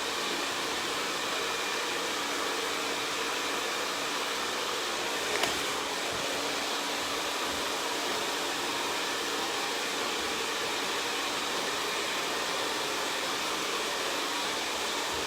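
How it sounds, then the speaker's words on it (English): A hair dryer blows steadily on a mannequin's hair at a salon station, a constant close whooshing hiss with a brief bump about midway. "once I've got the hair dry, I like to flip it over to cool air"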